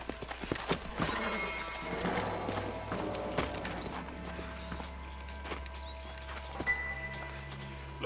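Horses in the video game Red Dead Redemption clip-clop at a slowing walk, their hooves knocking irregularly at close range, with a whinny and creaking tack and no speech.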